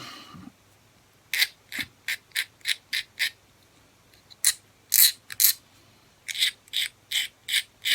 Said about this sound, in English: I'll just get a little flat file.